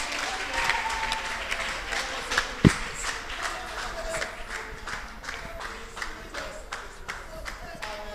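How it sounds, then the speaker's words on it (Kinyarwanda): A church congregation breaks into applause with many hands clapping in a steady, fairly rhythmic pattern, along with a single loud knock partway through and some voices mixed in. "Amashyi menshi ku Mana yacu."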